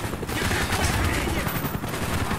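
Gunfire in the video game Call of Duty Black Ops: a dense, continuous burst of rapid automatic fire fills the moment at high volume, with a voice talking underneath.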